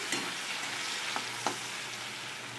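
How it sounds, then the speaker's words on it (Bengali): Potatoes frying on very low heat make a gentle, even sizzle, with a few faint clicks of stirring, close and quiet and without voices. "এটা একদম কম আঁচে ভাজতে হবে"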